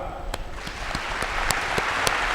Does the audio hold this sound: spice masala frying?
no